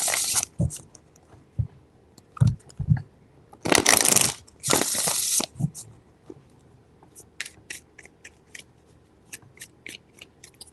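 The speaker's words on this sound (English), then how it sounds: "Three shuffles." Tarot cards being shuffled by hand, with bursts of riffling and sliding card noise, two longer loud riffles in the middle, and soft taps and flicks between them, close and alone.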